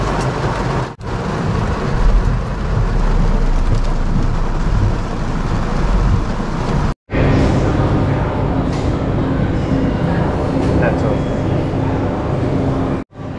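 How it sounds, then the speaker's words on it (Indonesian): Heavy rain pours steadily in Brisbane, a dense, loud and continuous broadband wash with low rumbling that may be thunder, broken only by two brief cuts. "But lagi nunggu hujan"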